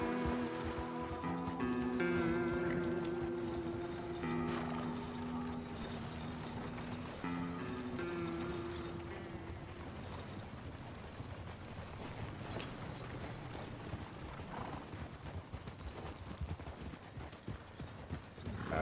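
Horse hooves clip-clop steadily in a roleplay video game, a continuous rhythmic clatter carrying on for the full stretch, with a faint game melody and ambient patter underneath early on.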